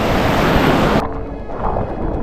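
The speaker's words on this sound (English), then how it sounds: "And there's some waves coming in." Ocean waves roll onto a beach in Devon or Cornwall, a loud broad wash of surf with heavy wind buffeting the microphone that drops off abruptly midway, leaving softer water rumble.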